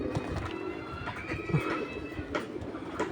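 Pigeons coo and call from scattered perches after being bathed and released together, males and females loose at once; soft repeated cooing over a steady background rumble, moderately near.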